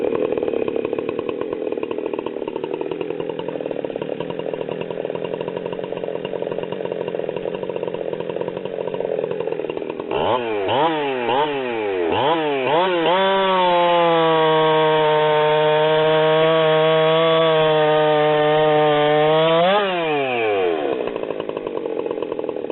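A Husqvarna 372XP X-Torq chainsaw idles roughly, then revs sharply and holds a loud, steady high-rpm whine through a cut in wood for several seconds before dropping back down. No voices.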